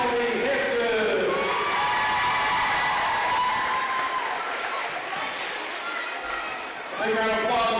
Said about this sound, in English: Big round of applause for your third and fourth grade teams